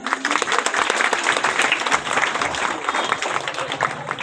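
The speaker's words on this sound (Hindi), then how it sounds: "विद्यार्थी ताली बजाते रहे।" Students clap together at a Dr. Ambedkar Jayanti celebration, a thick, continuous burst of applause that stays loud and even for several seconds.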